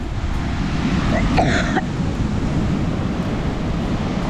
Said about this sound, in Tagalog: Ang laki ng ano, laki ng alon